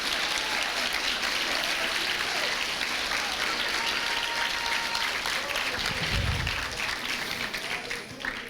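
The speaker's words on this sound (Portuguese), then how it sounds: "Se você quer aplaudir ao Senhor, faça com força para Ele" A church congregation applauding during a sermon, a loud continuous roar of many hands clapping together, with a low thump partway through and faint voices mixed in.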